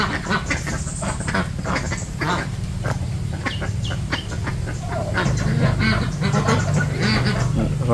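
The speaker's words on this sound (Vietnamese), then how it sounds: "Vịt này Tết sẽ cho bao nhiêu rồi?" Ducks quack repeatedly in a noisy cluster in a rural Vietnamese garden, close by, with a low steady rumble underneath.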